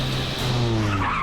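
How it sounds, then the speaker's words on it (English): A car tears through a power slide on a test track, its tires squealing in a sustained, loud skid over a steady engine drone. "From the parallel park power slide"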